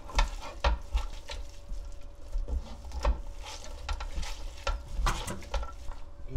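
Chili and doenjang are mixed by hand into sea eel and dried radish greens stew ingredients, a close, soft squelching and rubbing with scattered sharper knocks and no talk.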